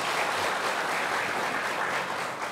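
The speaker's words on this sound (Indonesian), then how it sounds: "Tepuk tangan yang meriah untuk kita sekalian." A talk-show audience at a health event in Purwakarta, Indonesia, bursts into dense, loud applause that fills the room without pause.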